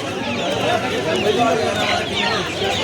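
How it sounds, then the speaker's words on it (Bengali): Young month-old Australian chickens at a busy hen market in Uluberia, Howrah, giving soft continuous clucks and chirps amid crowd chatter and people talking nearby. "এগুলো অস্ট্রেলিয়ান মুরগি আছে দেখুন"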